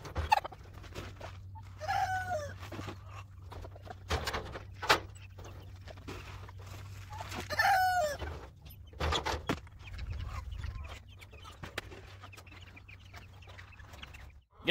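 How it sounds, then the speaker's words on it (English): Game chickens cluck and call in a pen, with occasional louder squawks rising over a steady low hum and scattered rustling. "Game chickens are doing good."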